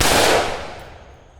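A rifle fires M855 62 grain ammunition from a bare muzzle, a single loud, sharp report that rings out and decays over about a second.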